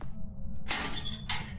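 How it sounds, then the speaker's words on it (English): A door opens in the ghost-hunting video game Phasmophobia with two bright, sliding bursts about half a second apart, moderately loud over a low steady rumble. "Door's open."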